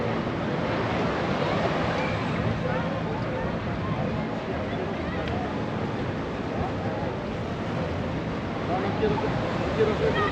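Rough ocean surf at a Puerto Vallarta beach makes a constant, dense roar of breaking waves with wind noise mixed in, steady and fairly close.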